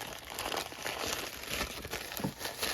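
Collage-style jelly paper is crinkled and handled by hand for decoupage, a close, continuous rustling and crackling with no speech over it.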